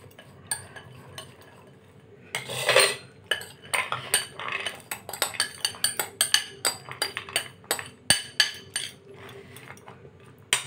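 Chickpea chaat is mixed in a bowl with a spoon, producing a long run of quick, irregular clinks and scrapes of metal against the dish, close and fairly crisp, with no talking.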